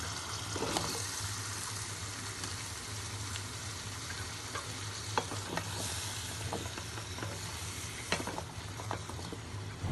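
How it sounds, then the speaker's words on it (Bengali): Pumpkin cubes and small shrimp fry in oil in a pan while being stirred, giving a steady close sizzle with scattered scraping and clacking strokes throughout. "সব কিছু ভালো মতো নেড়ে চেড়ে আমি ঢাকনা দিয়ে ঢেকে 10 মিনিট অপেক্ষা করব"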